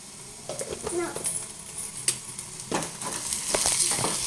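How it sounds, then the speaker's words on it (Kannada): Onions frying in a pan for brinjal chutney, with a steady sizzle broken by scraping stir strokes and short crackling bursts, close up, as a voice talks faintly in the background. "ಕೆಂಪದಾಗಿವರೆಗೂ ಫ್ರೈ ಮಾಡ್ಕೋಬೇಕು"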